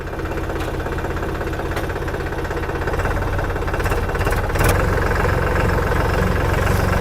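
A tractor engine idles loudly and steadily after being shifted into reverse, a close rumbling drone with a faint knocking pulse and a brief mechanical clunk partway through.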